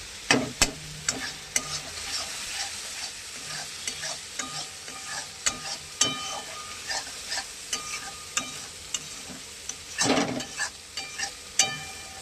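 Chicken coated in chili powder sautés in a pan, a spoon scraping and stirring in irregular strokes with sharp metallic taps over a low steady sizzle; close by, no voices.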